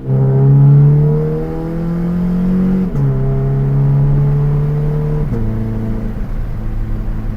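A Scion FR-S in sport mode pulls through the gears, its loud engine tone climbing steadily and dropping at two shifts with quick exhaust snaps, heard from inside the car.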